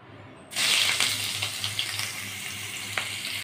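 Chopped onion is dropped into hot oil already frying with green chili and white mustard seeds, setting off a sudden loud sizzle that carries on steadily with small crackles and pops, close by.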